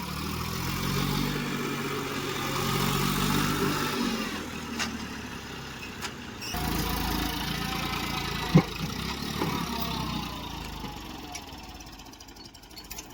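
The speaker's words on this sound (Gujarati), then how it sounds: "ટ્રેક્ટર અત્યારે તો બે ચાલુ છે." A tractor engine idles on a farm field with a steady low chugging rumble, dipping briefly midway before continuing at a constant, moderately loud level.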